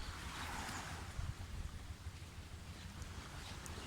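Strong wind buffets a microphone on the Thai coast near Ko Samui under dark rainy skies, a steady broadband rumble and hiss that runs unbroken throughout, loud and close, with no voices.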